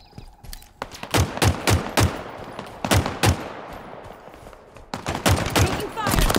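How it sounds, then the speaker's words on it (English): Rapid gunfire bursts from a firefight in the video game Halo Infinite, loud repeated volleys in clustered rhythm with short pauses, close and dominant, with brief voices shouting underneath. "Taking fire!"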